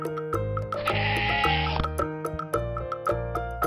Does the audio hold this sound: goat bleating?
yes